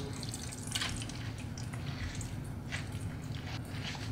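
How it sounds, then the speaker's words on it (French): Chopped fennel is pressed by hand to squeeze out its water, giving soft wet squishes and small drips close by over a low steady background, with no talking. "on va presser sur le fenouil de façon à enlever l'eau"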